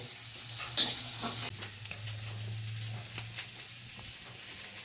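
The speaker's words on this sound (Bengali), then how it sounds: "এই সামান্য পেঁয়াজটা খালি একটুখানি তেলে নেবো, আর গোটা গোটা রসুন" Onion and whole garlic cloves frying in a little oil give a dense, steady sizzle with a few crackles and light stirring sounds, close and consistent, with no voices.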